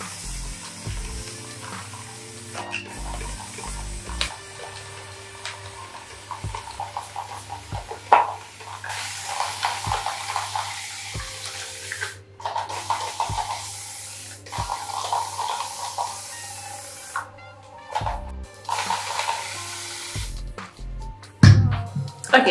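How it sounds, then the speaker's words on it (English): Water sprays and splashes in bursts onto natural hair, hissing on and off with soft thumps and handling noises between, close by. "I'm going to just drench my hair in water"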